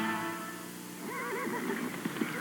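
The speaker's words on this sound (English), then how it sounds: "Get down to basics with Smidget, the world's smallest horse." A tiny miniature horse whinnies, a faint wavering neigh rising after a low hum, with a few soft knocks toward the end.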